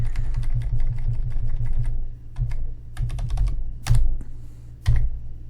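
Keys clack on a computer keyboard while a line is edited in the IBM i SEU source editor. Quick runs of crisp taps come in bursts, with a few heavier keystrokes, over a low steady hum and no talk.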